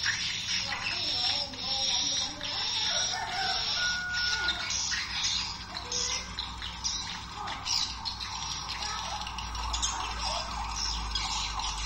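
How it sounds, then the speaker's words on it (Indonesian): A recorded swiftlet lure call, played as a stereo luring and roosting call, gives dense, high, repeating chirps and twitters that run steadily without pause. "supaya walet gampang fokus menemukan suara tarik dan suara inap yang kita pasang"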